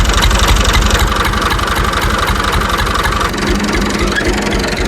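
A tractor engine runs steadily nearby on farmland, a disc harrow hitched behind it for levelling uneven ground; the diesel idles with a continuous low rumble and rapid pulsing, loud and unbroken throughout.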